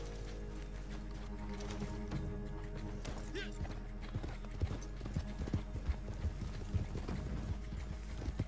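Horse hooves trot in Red Dead Redemption Online, a steady close clip-clop over a low, constant rumble of background sound. The beat grows more distinct in the second half, and a voice speaks briefly at times.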